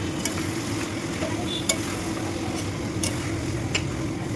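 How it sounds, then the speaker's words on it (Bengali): Chicken pieces coated in spices sizzle steadily in a kadai, with a constant frying hiss and a few sharp scrapes and clinks from stirring, no voices. "মশলাগুলো কড়াইতে দেবার পরে এবার মাংসের সঙ্গে ভালো করে মিশিয়ে নিতে হবে।"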